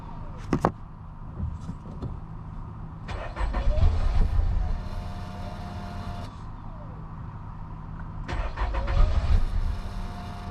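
A Nissan Altima 2.5 engine cranks briefly, then catches and turns over again, a close mechanical rumble with a second cranking burst near the end.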